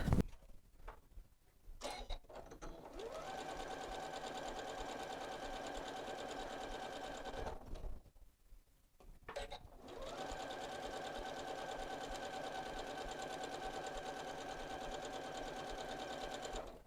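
A sewing machine stitching quilt block sections, running in two long steady whirring bursts with brief stops and handling noises between them, close and clear with no talk.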